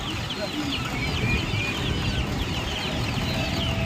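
Black karunkozhi chickens clucking at a busy market stall, several birds chattering close by amid crowd noise and background voices.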